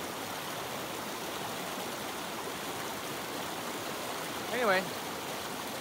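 A river creek in the mountains of Jasper National Park rushes steadily and close by in a continuous broad hiss of flowing water, with someone briefly speaking a word over it.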